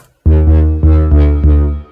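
Layered synth bass plays a short pattern of four punchy, sustained notes with a thick, buzzy low end and bright upper harmonics, loud and alone.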